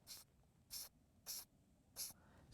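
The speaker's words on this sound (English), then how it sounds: "I'm simply going to spray a little bit on the head" Sonic Coat aerosol paint sprayed in short bursts onto the head of a fishing lure: four evenly spaced hissy spritzes, each about a quarter second, close and fairly quiet with no talking.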